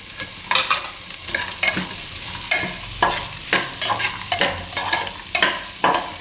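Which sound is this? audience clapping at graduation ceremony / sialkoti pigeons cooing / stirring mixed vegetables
stirring mixed vegetables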